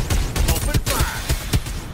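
Rapid gunfire from the battle royale game Farlight 84, a run of sharp shots in irregular bursts at close range, with game voice lines mixed in.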